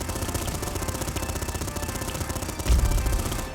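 Heavy machine gun firing in the shooter game Afterpulse, a rapid sustained burst of dense gunfire rattling steadily, with a heavier thump near the end, loud and alone.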